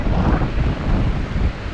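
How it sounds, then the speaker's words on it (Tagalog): Strong wind off the sea buffets the microphone in a loud, continuous low rumble with no break, close and heavy, with no voices over it. "Lakas ng hangin sa dagat."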